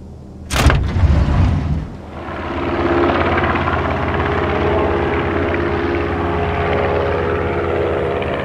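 A propeller airplane engine in the Film Fatale video game drones steadily and fairly loudly for several seconds after a brief, sharp burst of noise at the start.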